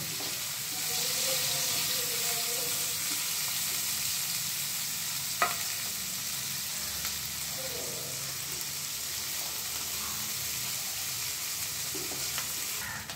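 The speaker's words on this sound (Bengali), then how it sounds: "তেলে একটু ভেজে নেব।" Ginger, garlic, green chillies and cashews fry in oil in a wok, a constant dense sizzle up close, with a single sharp clunk of the stirring spoon partway through and faint scraping.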